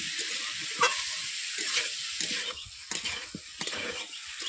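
Yam sautéing in a pan with spices and a spoonful of butter on a low flame: a steady hiss of frying with repeated soft scrapes and stirs, close and even, without any talking.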